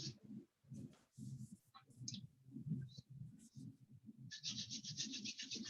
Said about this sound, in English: Then again, rubbing your hands together.